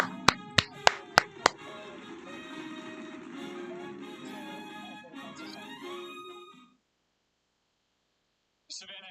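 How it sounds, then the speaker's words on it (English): Five quick, sharp claps from one person, close and evenly spaced, open the moment before talking takes over and then fades to silence. "Little clap."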